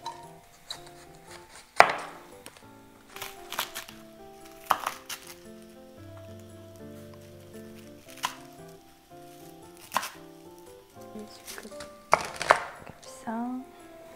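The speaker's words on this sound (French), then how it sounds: "Quand le chou devient petit comme ça, je coupe autrement." A kitchen knife chops cabbage for sukiyaki on a board, making sharp irregular thuds with short pauses between cuts, alongside faint clinks and some background music.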